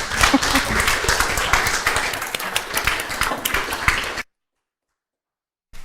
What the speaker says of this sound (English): We may applaud them.